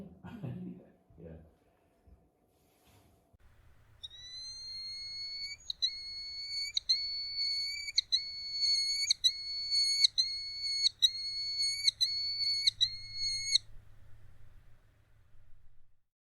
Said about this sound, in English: that's just obviously a little sample of what a merlin sounds like